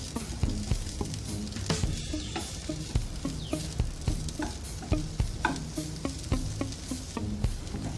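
Soya chunks and beans with curry leaves are stirred in a pan, making a low sizzle under a rhythmic run of scraping, clattering spatula strokes, with no speech.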